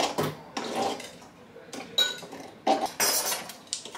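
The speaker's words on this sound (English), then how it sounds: "now I'm going to scrape all that off" Spatula scraping cookie dough from a mixing bowl while baking Christmas cookies, with several short scrapes and clinks against the bowl, close and fairly loud, no talk.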